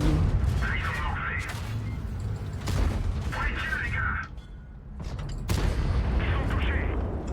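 A tank shell strikes the player's tank in a tank battle video game, a heavy blast and rumble amid continuous loud gunfire and mechanical combat noise, with a sharp new impact partway through.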